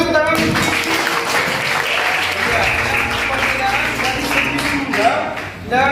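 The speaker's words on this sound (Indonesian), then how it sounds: "Betul, beri tepuk tangan." Classroom applause in a school lesson on teeth, a room of students clapping steadily for about six seconds, fairly loud and dense, with some voices mixed in.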